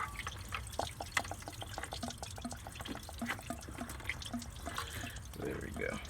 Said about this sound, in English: And there goes all our coolant.